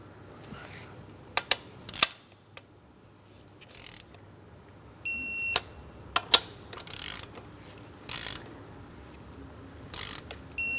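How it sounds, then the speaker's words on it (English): Torque wrench ratcheting on valve cover bolts of a 2003-2007 Cadillac CTS 3.6L V6, heard as scattered short clicking bursts and brief ratchet runs with quiet gaps between them, close to the microphone. "Let's go ahead and torque them in that same crisscross manner."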